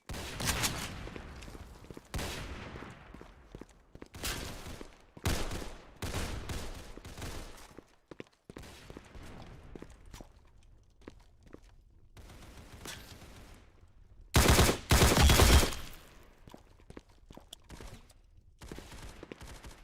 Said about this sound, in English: So with this delay in the firing for the burst mode.